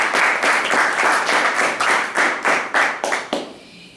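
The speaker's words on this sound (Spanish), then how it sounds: "Den un aplauso grande al Señor." A church congregation claps in rhythmic unison, a loud run of evenly spaced group claps that ends abruptly after a few seconds.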